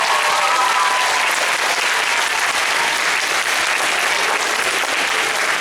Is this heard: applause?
yes